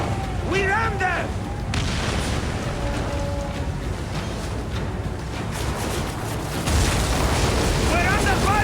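Ship cannons boom in a naval battle in Assassin's Creed Origins, with repeated heavy blasts over a dense, continuous roar of combat, while voices shout throughout.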